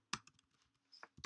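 Typing on a computer keyboard, a few quick close clicks in short irregular bursts, crisp and quiet, with no talk over it.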